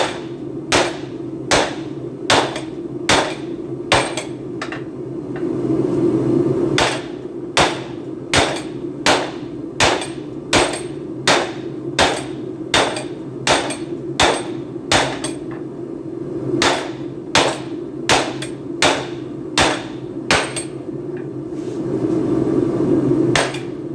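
Hammer blows thinning out a spike during forging at a homemade forge, a long run of sharp, ringing metallic strikes in a steady rhythm, loud and close, with brief pauses between sets.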